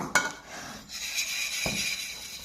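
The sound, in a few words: whisk mixing quiche filling (thyme, goat cheese, spinach) in a bowl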